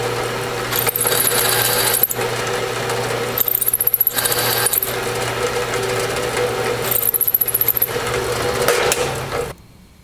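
Loud whining drill runs in repeated bursts through the aluminum of a Holley 750 cfm 4150 carburetor, pausing between passes with faint metallic clicks, close by, ending abruptly in near silence.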